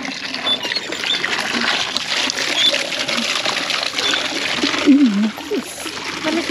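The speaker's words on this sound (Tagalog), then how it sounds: "pinapaliguan yung mga kangkong" Water trickling and splashing as water spinach (kangkong) is washed, a running dribble with intermittent splatters close by, with voices talking over it.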